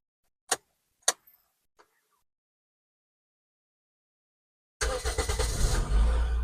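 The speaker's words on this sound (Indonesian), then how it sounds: "mobil udah nyala dan mesinnya ini khasnya Vios banget suaranya" A few sharp clicks, a pause of silence, then the engine of a 2006 Toyota Vios facelift sedan turns over and settles into a steady, close idle.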